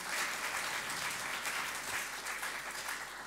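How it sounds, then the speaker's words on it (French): Steady audience applause for participants at a car dealers' sales conference, a dense, even wash of clapping that holds at a moderate distance throughout. "Applaudissements pour nos participants."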